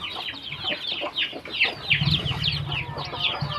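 A Dekalb White hen, a brooding bird with sparse, patchy feathers, makes a run of close, rapid clucks and soft squawks, with a low hum in the background.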